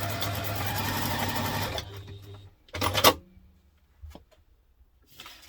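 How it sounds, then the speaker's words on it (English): Sewing machine stitching laptop briefcase pieces along the seam allowance: a steady, rapid mechanical run of stitching for a couple of seconds, then brief stops and short bursts, close and clear. "we're going to take those to the machine and stitch them with the seam allowance in the pattern"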